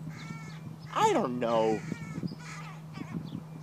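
Crows caw in a few harsh, rising calls close by, mixed with a person speaking briefly over a steady low hum.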